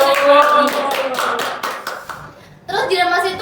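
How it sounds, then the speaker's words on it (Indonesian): A small group of teenagers from a mosque youth club claps in a brief burst of close, fairly loud hand claps, then breaks off as young voices start talking over it. "Tepuk tangan dulu dong guys"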